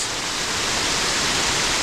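A creek rushes beside a hiking trail in the Shining Rock Wilderness, a loud, steady broadband wash of flowing water with no pauses and no voices.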